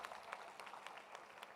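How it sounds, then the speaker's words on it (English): Faint, brief applause from a forum audience at a UNESCO youth event, a soft scatter of claps heard at a distance for under two seconds. "Please a round of applause for Barbara."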